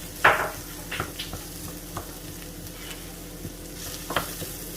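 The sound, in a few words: stirring sizzling pasta sauce in a pan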